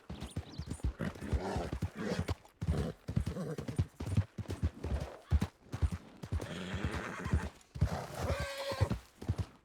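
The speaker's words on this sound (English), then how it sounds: "Fun place to race her on a horse." Horse hooves pound at a gallop through rough canyon terrain in the Red Dead roleplay game, with repeated neighs and whinnies rising over the steady clip-clop, close and loud throughout.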